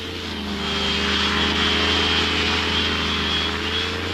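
Microlight aircraft engine droning steadily during a takeoff on skis, a loud, close buzzing whine that swells slightly and holds.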